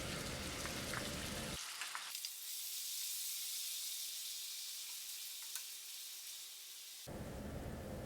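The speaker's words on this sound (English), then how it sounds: "Once my test onion sizzles" Steady, bright sizzling of onion frying in hot oil, a continuous crackling hiss that carries on without pause, close and fairly loud.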